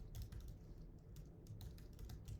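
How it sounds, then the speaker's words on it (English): Quick, uneven keystrokes tapped on a computer keyboard, close and quiet, alone without speech. "if I can type."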